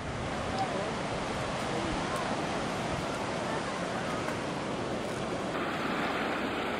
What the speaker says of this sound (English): It was so nice to walk in the water listening to waves without crowd.